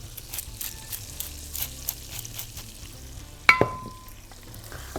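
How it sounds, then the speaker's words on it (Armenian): A seasoned mixture for chicken drumsticks in sauce is stirred in a frying pan, with soft scraping strokes over a low sizzle and one sharper clatter partway through, close and alone. "Այս ամենը խառնում եմ մի հատ"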